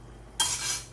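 One quick stir of a pot of Surinamese brown beans with mixed meat: a short, close scrape of a utensil, alone over a quiet simmer.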